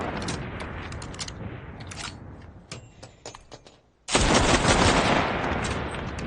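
Rifle gunfire in the video game Enlisted, with a battle soundscape of scattered shots and bursts at mixed distances, then a sudden loud wash of noise near the end.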